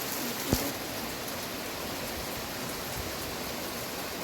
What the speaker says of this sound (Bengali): দফায় দফায় বৃষ্টি হচ্ছে